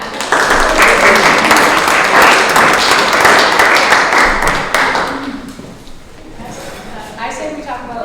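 An audience at a school board meeting claps for about five seconds, a dense burst of applause that fades out as talking resumes.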